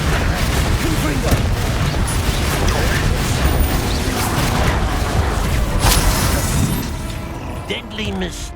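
Confringo fire spell explosions in Hogwarts Legacy battle-arena combat, dense rapid blasts and crackling impacts layered over busy game noise, loud and continuous.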